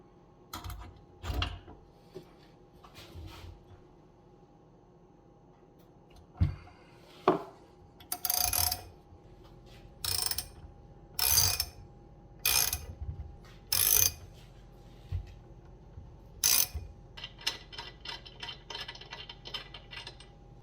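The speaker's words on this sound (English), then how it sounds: "let's see if we can get this stud out with the extractor." Metal clicks and ratcheting from a stud extractor working a stuck cylinder stud out of a motorcycle engine, a series of sharp, close bursts spaced a second or two apart, ending in a quicker rattling run, with no talk.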